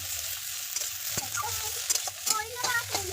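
Chow mein is stir-fried in a pan, a hissing sizzle broken by repeated scraping and tossing strokes of a spatula, close and busy with irregular clatters.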